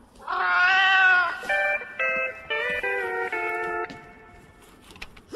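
A cat lets out a long, loud, drawn-out meow up close, followed by several shorter, clipped meows in quick succession, then fades to quiet room noise before a sudden noise at the end.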